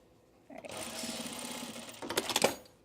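A sewing machine stitches binding along the hem of a pre-quilted Tamarack jacket, running steadily up close with a whirring hum that grows louder and choppier toward the end.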